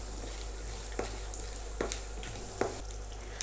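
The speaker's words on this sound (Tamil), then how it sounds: "நம்ம போட்டிருக்க அந்த உளுத்தம் பருப்பு, கடலைப்பருப்பு அண்ட் கடலைக்கொட்டை எல்லாமே ஆயிலில் நல்லா ஃப்ரை ஆகணும்." Urad dal, chana dal and peanuts fry in oil over medium heat with a gentle, steady sizzle, with a few faint crackles and pops spread through it.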